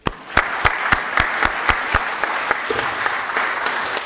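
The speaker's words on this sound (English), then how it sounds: "Round of applause for them." Applause from a conference audience in a hall, with a few loud, sharp individual claps standing out near the front over a steady crowd patter that continues to the end.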